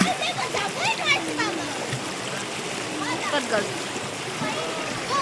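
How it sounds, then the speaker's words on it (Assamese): Small river stream near Kakochang flowing steadily, a constant close babbling rush of water heard under lively talking voices throughout. "এইফালে আকৌ সৰুকৈ নদী মানে পানী বৈ গৈ আছে"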